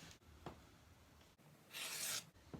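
A hand rubs and smooths fleece fabric laid out flat, giving a faint, close brushing sound followed by one louder, longer swipe across the cloth.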